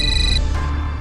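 Phone ringtone for an incoming call, a loud, close electronic tone lasting about a second.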